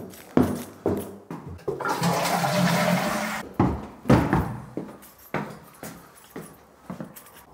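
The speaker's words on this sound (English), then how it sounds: "I'll go and flush the toilet and we can work out which one it is." A toilet flushes in a 1920s house under renovation, a loud rushing surge of water lasting about two seconds, framed by knocks and clunks of the handle and refilling cistern before and after.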